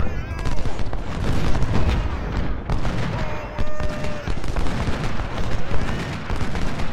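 Cannon fire booms and crackles through dense battle noise in the Civil War strategy game Ultimate General: Civil War, loud and continuous, mixed with rattling musket volleys.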